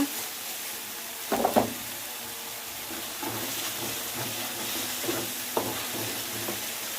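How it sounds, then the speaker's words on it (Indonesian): Tamarind water goes into a pan of frying bitter melon, giving a few splashy bursts followed by a steady soft sizzle with occasional stirring scrapes, close up and without talk. "Lalu kita masukkan air asamnya."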